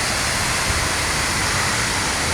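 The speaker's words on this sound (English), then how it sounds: "Boali Waterfalls here in Central African Republic." Boali waterfall in the Central African Republic roars as a steady, dense, close wash of falling water, unbroken and loud throughout with no voices over it.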